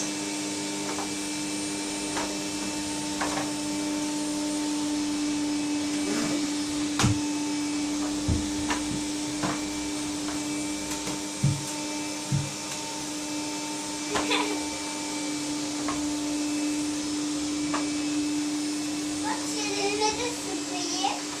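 An electric vacuum cleaner runs steadily through the house with a constant droning hum, while children's voices and occasional small knocks come and go over it.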